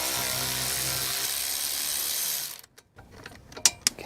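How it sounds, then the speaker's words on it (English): Electric ratchet spinning out a wheel hub bolt on a 2006-2013 Mini Cooper S during hub assembly replacement: a loud continuous buzzing whir for about two and a half seconds, then it stops, followed by a few metallic clinks. "I'll just use the electric ratchet to finish it off"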